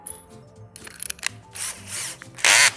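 A power drill fitted with a countersink bit bores a screw hole in wood while building a catapult, giving short bursts of whirring, with a louder final burst after some small handling clicks.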